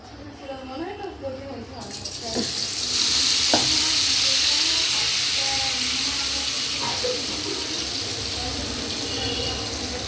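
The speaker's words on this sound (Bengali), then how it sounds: "এই পুরটা দিয়ে এরকম মুড়ে এই বাটারের মধ্যে ডুবিয়ে তেলে ছেড়ে দেবো" A batter-dipped stuffed snack, a filling wrapped in flatbread, is dropped into hot oil and breaks into a loud, steady, close sizzle that holds for several seconds, with a few soft clinks and brief talk near the start.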